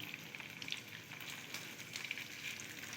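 Masala idli pieces fry in a pan over a gas flame, giving a continuous, even crackling sizzle with small pops throughout, close and fairly soft, with no voices.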